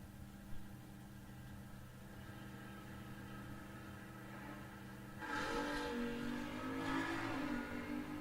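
At a drag race, a distant car engine hums faintly, then surges louder as the car accelerates hard with a rising roar, easing briefly as the driver lifts at the top end before climbing again.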